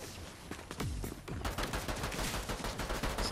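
Hand cannon fire in a video game rings out in a quick series of loud, sharp shots over steady in-game background noise, with no one talking.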